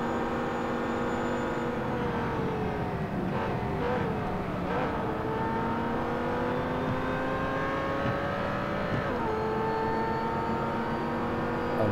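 A Corvette Z51 race car engine in the video game Real Racing 3 drones loudly and continuously, its pitch rising and dropping as it revs through gear changes.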